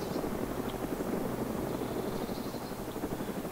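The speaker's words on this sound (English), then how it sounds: "that's a helicopter flying over." A helicopter passes overhead in the DayZ game world, its rotor thumping in a fast regular pulse beneath a steady engine whine, continuous and moderately loud with no other sounds.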